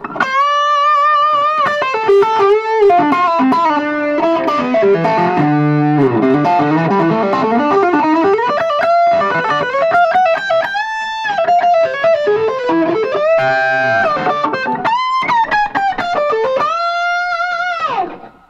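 Heavily distorted electric guitar through a high-gain distortion pedal plays riffs and sustained chords, loud and saturated, with bends and slides, running continuously without any voices.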